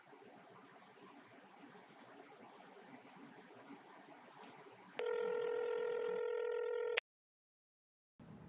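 A phone call being placed: low room hiss gives way to a steady telephone tone lasting about two seconds, followed by silence and a faint return of background noise.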